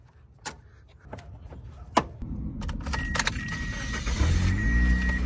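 A high-mileage Toyota car with a newly replaced idle air control valve: keys jangle and click, then the engine cranks and catches, settling into a steady, rising idle nearby.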